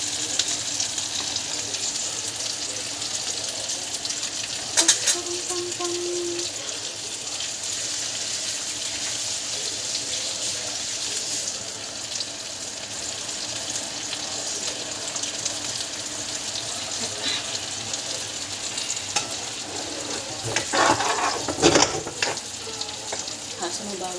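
Stir-frying with a splash of soy sauce: a steady, loud sizzle runs throughout, with occasional clanks and scrapes of a utensil against the pan.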